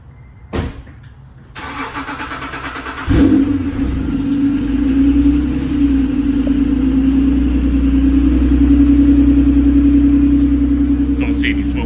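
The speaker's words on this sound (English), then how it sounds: "We're going to capture the cold start." A 1995 Acura NSX engine cold-starts with a brief cranking whir and a sharp catch, then settles into a steady, loud, elevated idle with a low rumbling exhaust that holds close to the microphone.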